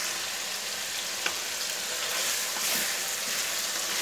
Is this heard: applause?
no